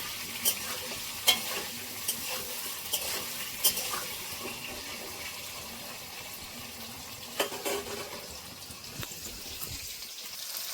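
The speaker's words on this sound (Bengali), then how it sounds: "হালকা করে এটা ভেজে নেব, আগে ভেজে নিচ্ছি হালকা করে।" Tangra fish lightly frying in a pan with a little salt, a steady sizzle broken by sharp stirring clatters and utensil taps every second or two, close and alone with no voices.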